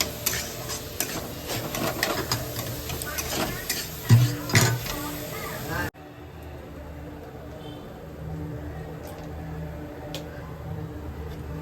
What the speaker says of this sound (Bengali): কলা আর সুজি আমি একদম ভালো করে মিক্স করে দিচ্ছি